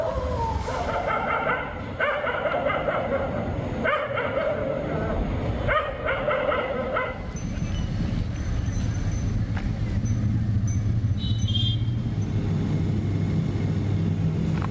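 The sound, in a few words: stray dogs barking in a hospital compound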